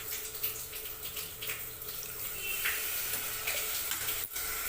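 Water pours into a cooking pot with soaked rice for tomato rice, a steady, close splashing stream that runs for several seconds, fairly quiet with no voices.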